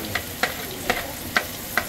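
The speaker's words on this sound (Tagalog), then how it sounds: "Gisa natin yung sibuyas bawang sa butter" Onion and garlic sautéing in butter give a steady soft sizzle, broken by about five sharp scrapes of a spoon against the pan at roughly half-second intervals, close and fairly quiet, with no voices.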